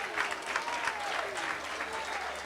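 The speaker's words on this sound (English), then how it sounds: "A very big round of applause for Umphathiswa Betuna." A crowd applauds a government minister at a school hostel's official opening, a dense wash of clapping that holds at an even level throughout.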